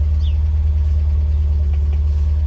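A 1973 MGB Roadster engine idles steadily with a smooth, even low rumble that stays at one level throughout, heard up close with no voices.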